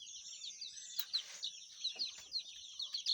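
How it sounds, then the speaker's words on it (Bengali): Native desi chicken chicks and hens on a poultry farm: a steady flurry of high, bright chirps and peeps, with occasional softer clucks, fairly close and continuous throughout. "এখন দেখতে পাচ্ছেন এগুলো সব দেশি মুরগির বাচ্চা"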